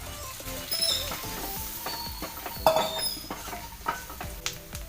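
Fried beef for beef pickle is stirred into a sizzling spice mix of turmeric and chili powder, a close crackling fry broken by repeated clinks and scrapes of a spoon against the pan.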